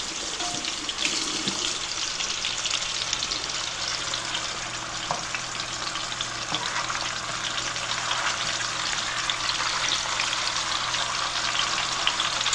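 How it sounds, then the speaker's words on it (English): Salmon frying in a pot during a barbecue salmon cook, a loud continuous close sizzle and hiss with faint crackles, steady throughout with no talking. "we're adding the fish to the pot"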